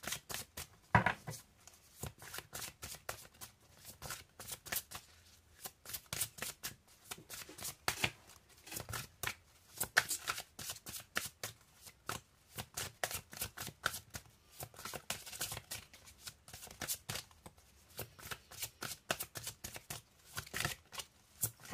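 Tarot cards shuffled continuously by hand, with a steady, rapid riffle of soft papery slaps and flicks lasting the whole stretch, fairly quiet and close with no talking over it.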